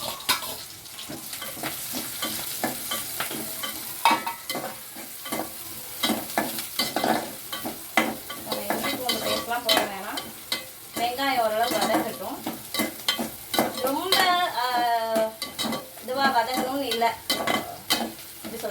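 Onions and curry leaves frying and stirred in a pan for soya chunk (meal maker) gravy, with continuous sizzling, repeated spoon scrapes and clinks, and a voice talking over the cooking.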